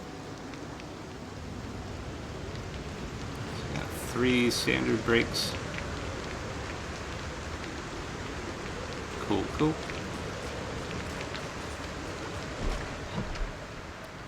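Rain falling outdoors, a soft steady hiss of drops heard close and fairly quiet, with brief clinking sounds and a person talking over it.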